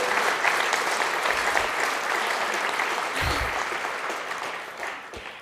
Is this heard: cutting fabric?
no